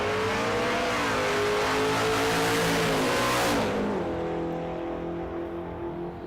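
Big block class drag race cars at Mo-Kan Dragway during Rocky Mountain Race Week, engines at full throttle in a loud sustained roar that rises in pitch, then fades as they pull away down the strip.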